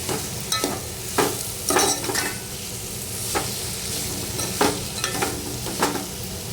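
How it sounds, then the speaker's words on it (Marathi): Soybeans being stir-fried in spiced oil for soybean pulao: repeated spoon strokes scrape through the pan at an uneven pace over a constant light sizzle, close and with no speech. "सोयाबीनही मसाल्यामध्ये व्यवस्थित परतून घ्यायचे"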